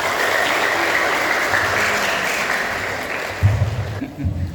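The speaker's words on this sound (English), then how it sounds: "also applause for our Sir Abby" Applause from an audience of new university students greeting a lecturer, a broad continuous clapping wash that thins toward the end, with low rumbling bumps near the close.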